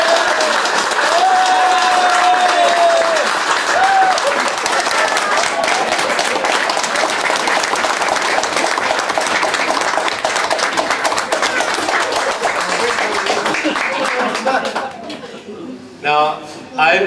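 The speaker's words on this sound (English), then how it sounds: "I'd ask you to give a round of applause to Patrick Doyle." A crowd gives a sustained round of applause at a gathering in Killorglin, dense and loud for most of the clip before fading out near the end, with faint voices mixed underneath.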